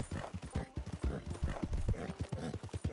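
Steady hoof clip-clops of a walking horse, a quick repeating rhythm of hard knocks, fairly close and moderately loud, with no talking.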